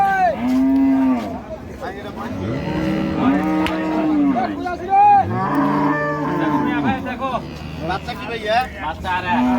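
Cows and calves at a cattle market moo loudly and close up, with long drawn-out calls repeating one after another. People talk in the background.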